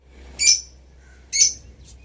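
Pet parrots chirping in a village home, two sharp bright chirps about a second apart followed by a fainter third, close by against a quiet background.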